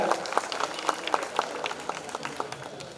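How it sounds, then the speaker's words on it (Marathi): Audience applause at an Independence Day ceremony, a steady crowd of hands clapping in a dense, continuous patter with scattered louder claps, filling the whole moment without any voices over it. "मी आपणास विनंती करतो की जोरदार टाळ्या वाजवून आपण यांचं अभिनंदन करूया"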